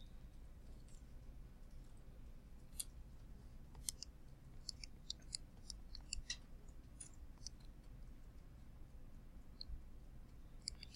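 Quiet, irregular clicks of fingers tapping calculator keys while entering a geometric series formula, sparse light taps scattered over a low background hum.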